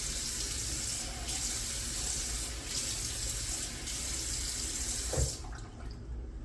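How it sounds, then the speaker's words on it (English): A hotel bathroom sink tap runs, water splashing into the basin in a steady, moderate stream with brief hand splashes, then the flow is shut off and the sound cuts to near quiet; nobody speaks. "so let me get some water on the face"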